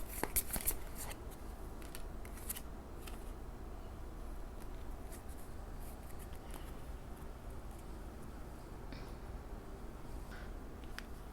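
Tarot cards are shuffled and handled quietly at close range, with soft riffling and repeated brief card snaps over a low, hushed background.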